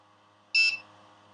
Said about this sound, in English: when you hear the beep, I hope you can hear this